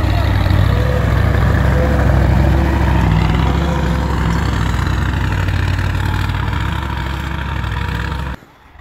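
A tractor engine drones loud and close while plowing a weedy, hard-ground field, a heavy steady roar that holds almost throughout before cutting off abruptly at the end.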